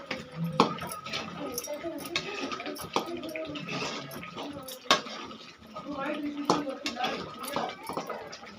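Metal spoon scraping and clinking against a pan of chicken masala in uneven strokes, with a sizzling, watery bubbling underneath and scattered kitchen clatter.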